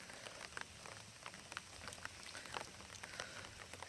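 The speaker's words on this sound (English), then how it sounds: "It's raining pretty good right now." Soft, steady rain patters on water in Congaree National Park, countless small drops tapping evenly at a quiet, constant level with no voices.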